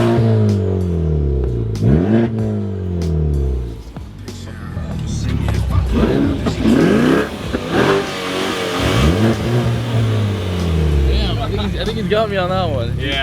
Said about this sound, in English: let's have a revving contest with this guy.